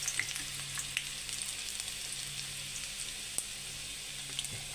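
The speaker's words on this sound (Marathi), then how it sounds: "तेल इथे छान असं गरम झालेलं आहे। यामध्ये मी लसूण टाकून घेते।" Garlic dropped into hot oil sizzles steadily for veg noodles, a close, even crackle that holds for several seconds with a few brighter pops and no voices.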